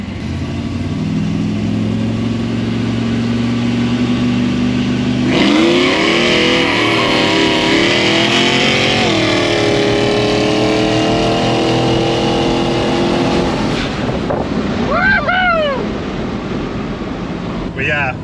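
A Holden VY tonner ute with the engine working hard during roll racing, droning steadily then surging into a loud rising rev that holds before the roar cuts off sharply, with people talking over the engine noise throughout.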